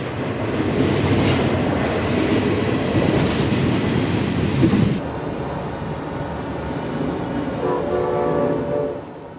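A CSX freight train, number 335, rolls by in Fort Lauderdale, Florida, with loud rumbling and clattering wheels up close, then a sudden drop to a quieter, more distant rolling sound with a horn-like tone near the end.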